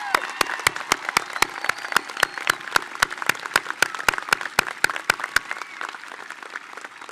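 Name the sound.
graduation audience applause for teachers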